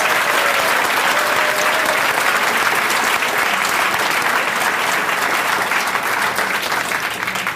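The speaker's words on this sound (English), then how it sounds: "let's give them all a big round of applause" A banquet crowd at a school district recognition event bursts into sustained, loud applause for 25-year employees, dense clapping filling the room steadily throughout and easing slightly near the end.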